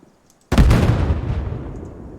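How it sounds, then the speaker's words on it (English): A light anti-tank (LAW) rocket fires in Arma Reforger with one sudden loud blast, followed by a rumbling roar that fades over about a second and a half. "I'm going to grab the light armored weapon, and you can't fire this in third person"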